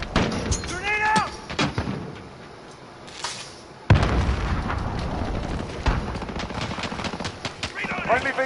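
A grenade explosion in the video game Call of Duty lands as one sharp, loud blast midway through, amid heavy machine-gun bursts and scattered gunfire, with game voices speaking throughout.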